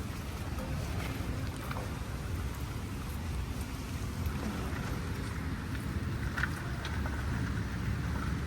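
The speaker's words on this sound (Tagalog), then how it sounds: "Naku, umulan na nga. Basa na tayo." Rain falling steadily outdoors among trees and plants, a continuous broadband patter mixed with wind buffeting the microphone, fairly loud and unbroken throughout with no speech.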